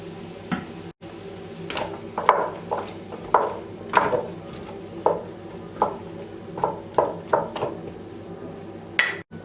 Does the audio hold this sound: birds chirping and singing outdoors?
no